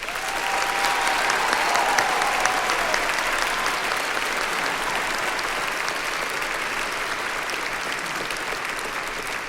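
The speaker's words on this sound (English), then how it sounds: "Please join me in applauding the NCC Touring Choir graduating 8th graders" An audience breaks into sustained applause for the graduating 8th graders of the Nashville Children's Choir touring choir at a church concert, a dense steady clapping that holds evenly loud throughout.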